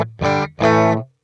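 Two distorted guitar chords played through the Air room reverb on a Sonicake Pocketmaster add only a slight ambience, the second ringing longer before a short fade into silence, with no speech.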